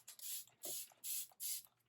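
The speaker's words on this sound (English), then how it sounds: "Let's use the Smashbox setting spray" Four short bursts of Smashbox makeup setting spray, each a sharp hiss lasting about a third of a second, evenly spaced and close by, with a faint hum underneath.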